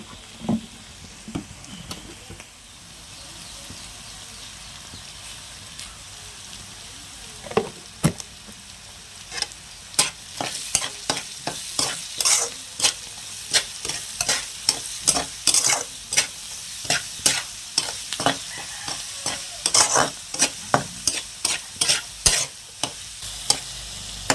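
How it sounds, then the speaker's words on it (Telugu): Capsicum frying in a pan with turmeric and salt gives a soft, steady sizzle, broken by a growing series of sharp spatula scrapes and taps as the pieces are stirred. "ఇదిగోండి క్యాప్సికం అయితే ఫ్రై అవుతుంది"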